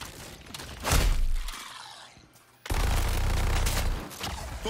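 Heavy bursts of gunfire rip through a battle in the video game Suicide Squad: Kill the Justice League, with a loud volley, a brief lull, then a sustained, dense barrage of shots close up.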